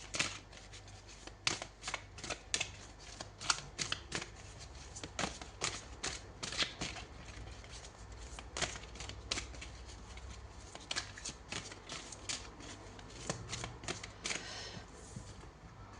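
Tarot cards are shuffled repeatedly close by in a quiet room, giving a run of crisp riffling bursts and soft slaps that come in irregular clusters.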